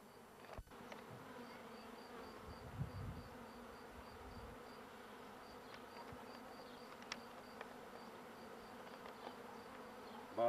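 A swarm of honey bees is being caught, and it gives a continuous buzzing drone of many insects close by. A few soft knocks and rustles sound through the steady hum, with no talking.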